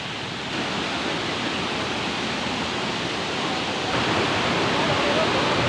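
Tagbibinta waterfall in Maragusan roars as a dense, continuous broadband rush of falling water, loud and close, growing slightly stronger toward the end with no pauses.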